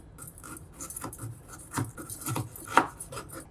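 Fresh amla gooseberries being cut into small pieces with a knife, giving a few soft, irregular chopping taps and rubs against a board, close and quiet, with no talking.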